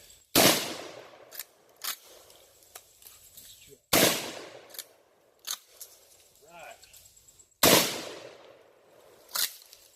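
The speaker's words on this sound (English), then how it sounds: "Now, if you just notice right there, I just shot it 7 times." A Chiappa 1887 Mare's Leg lever-action shotgun loaded with birdshot fires three sharp, loud blasts, evenly spaced a few seconds apart, with fainter clacks and mechanical handling noises between the shots.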